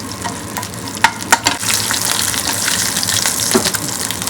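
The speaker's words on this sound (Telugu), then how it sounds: "ఓ రెండు బిర్యానీ ఆకు కొంచెం సేపు ఫ్రై చేసుకోవాలి ఇలా కొంచెం సేపు తిప్పుకుంటూ ఫ్రై చేసుకోవాలి" Bay leaves fry in hot oil in a pan, giving a loud, steady sizzle with a few sharp utensil knocks early on as they are stirred around.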